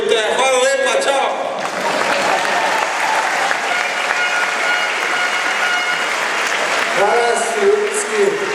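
A large indoor crowd claps loudly and continuously in a sports hall, the dense applause swelling and holding with cheering voices mixed in, after a short stretch of shouting and talk at the start.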